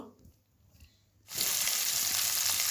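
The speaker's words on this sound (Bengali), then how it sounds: "এখন মাছটা একটু নাড়াচাড়া করে নেব আর মাছটা একটু হালকা করে ভেজে নেব" Small fish seasoned with salt and red chili powder frying lightly in a pan: a quiet stretch gives way to a sudden loud, steady sizzle that continues to the end.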